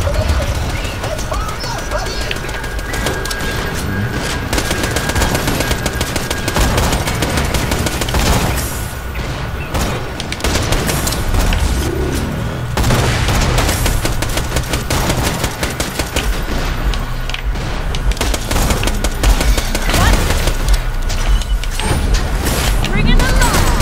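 Constant gunfire from the video game Borderlands The Pre-Sequel rattles through a dense firefight, with rapid automatic bursts and booming impacts layered over game music and noisy action for the whole stretch.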